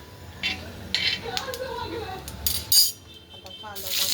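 A metal utensil scrapes and clinks against a pan while roasted coconut is scooped out, with several short clattering knocks and a voice talking in the background.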